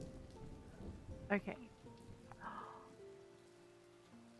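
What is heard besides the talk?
rain in the video game Swords 'n' Magic and Stuff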